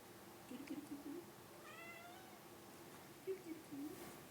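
A pet cat meows a few times in short, faint calls over a quiet room hum, with a person's soft voice calling in between.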